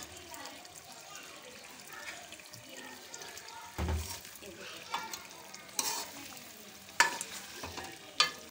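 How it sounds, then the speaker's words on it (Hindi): Butter stirred into sizzling chicken tikka karahi, a low frying hiss with scattered spoon knocks and a few sharp metallic clinks against the karahi, close and quiet. "सबसे पहले उसमें हम मक्खन शामिल कर देते हैं"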